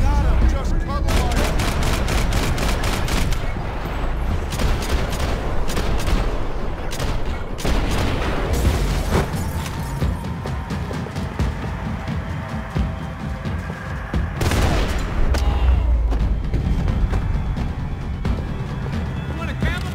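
Heavy gunfire crackles through a shootout in a crime action shooter, rapid overlapping shots and bursts that stay loud and continuous, with voices calling out over the firing.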